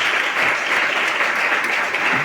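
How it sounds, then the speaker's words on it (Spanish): A short burst of audience applause welcoming the author Ignacio Martínez de Pisón at a literary conversation event, dense and loud clapping from a full room. "al que pido un aplauso"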